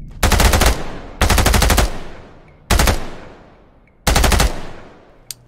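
Four booming rifle shots fired from a long-range scoped rifle in the tactical shooter Ground Branch, spaced about a second or more apart. Each blast is loud and close and trails off in a long rolling echo, and no voices are heard.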